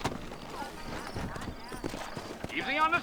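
Horse hooves clip-clop in a rhythmic trot in the Red Dead Redemption video game on PC, moderately close under frequent talk, with a brief horse whinny near the end.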